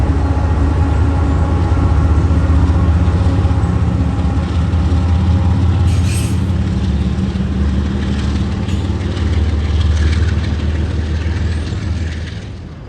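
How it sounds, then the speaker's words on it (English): A big freight train with DPU locomotives rumbles steadily across the tall Saluda Trestle bridge, a continuous loud low drone of engines and rolling cars with faint squeals, fading slightly at the end. "its spice comes from the simple thrill of a big train crossing a tall bridge"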